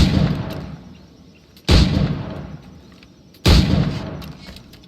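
Firearm shots in Assassin's Creed IV Black Flag: two heavy, booming blasts about two seconds apart, each with a long rolling decay, following an earlier shot already fading at the start.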